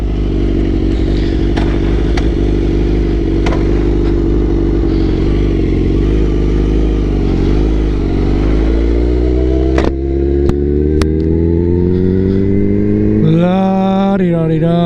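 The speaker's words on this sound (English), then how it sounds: "Little exhaust clip for you." A Suzuki GSX-R1000 K5 sportbike exhaust rumbles loudly at idle with sharp blips, then climbs into a long rising rev that peaks near the end, close and powerful.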